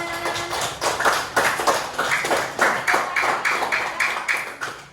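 Classroom applause for a student returning to his seat after a coding and artificial intelligence lesson demonstration: a steady, fairly close patter of many hands clapping for about five seconds, with no talking over it.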